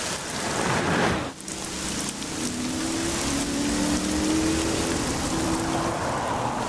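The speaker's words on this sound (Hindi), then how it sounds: "एक तो आज बारिश भी बहुत तेज है" Steady, heavy rain pours down, a dense hiss filling the air, with a faint low engine hum passing in the background.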